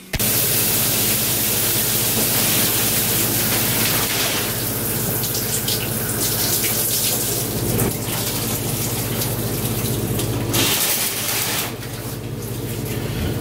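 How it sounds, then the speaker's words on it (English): A shower runs steadily at home, a loud, continuous hiss of spraying water that stays even throughout with only slight shifts as the flow is interrupted. "So let's shower real quick,"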